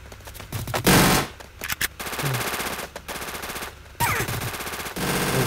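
Rapid automatic gunfire bursts from the Free Fire video game, loud and close, in several separate volleys broken by short pauses and mixed with game effects.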